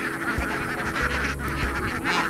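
Several geese honk repeatedly nearby in a farmyard kept alongside ducks, their loud nasal calls overlapping in an irregular chorus with no speech.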